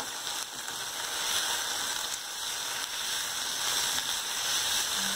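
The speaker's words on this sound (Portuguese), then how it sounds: "Deixar ela fritar até ficar levemente transparente" Chopped onion frying in a pan for a creamy rice dish, a steady bright sizzle that holds evenly throughout with small crackles, close and alone without talk.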